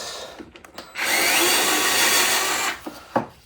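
A power drill fitted with a right angle extension runs steadily for about two seconds, loud and close, backing out side skirt screws near the wheel well of an Acura RSX, with brief clicks and handling noises before and after.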